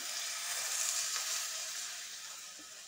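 Milk is poured into grated bottle gourd frying in a pan for halwa, raising a soft, even sizzling hiss that swells briefly and then gently fades.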